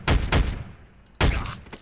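A Garry's Mod modded gun firing a hunter bullet: two sharp, loud shots in quick succession, then a pause and a third blast with a trailing echo, no talk over them.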